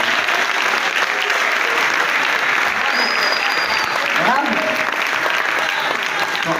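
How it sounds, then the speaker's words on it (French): An audience in a hall applauds at the opening of a Congolese awareness campaign event, dense sustained clapping that fills the room at high volume, with a faint whistle and a brief voice partway through. "je voudrais d'abord que ceux qui sont dans la salle applaudissent frénétiquement pour les jeunes talents qui sont derrière"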